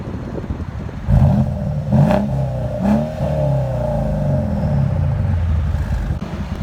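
A 2013 Mercedes CLS 550 with a 4.7-litre twin-turbo engine, dual exhaust, X-pipe and straight pipes revs up close by in several sharp blips, then settles into a steady loud rumbling idle.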